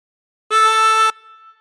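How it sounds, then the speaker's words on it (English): A single harmonica note drawn in through hole 3 and bent, a clear reedy tone held for about half a second, close and alone before it cuts off. "And bending the note, breathe in through 3."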